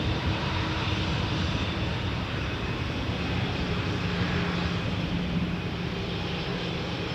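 An Air Canada Rouge Airbus A319 at Toronto Pearson, its jet engines giving a steady, broad roar that holds level throughout from some distance, with no voices.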